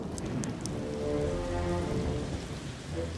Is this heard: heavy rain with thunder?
yes